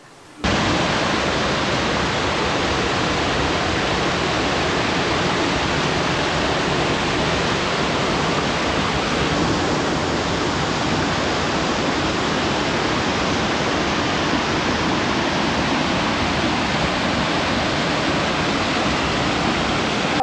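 A monsoon-season waterfall at Jhargram roars as a dense, constant rush of falling water, loud and unbroken throughout, with no voices heard.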